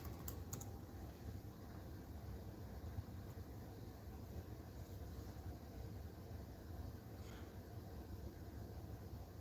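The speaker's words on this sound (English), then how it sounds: "Let's type in Manhattan" Typing on a computer keyboard, heard as a few light key clicks near the start against a steady hum of background noise that persists throughout.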